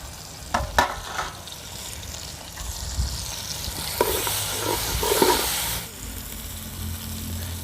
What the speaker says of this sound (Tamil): இஞ்சி பூண்டு பேஸ்ட் ஓரளவுக்கு வதக்கினா போதும்.